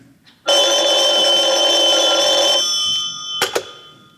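A telephone bell rings loud and close in a radio drama, one long sustained electric ring followed by a couple of short clicks as the receiver is picked up.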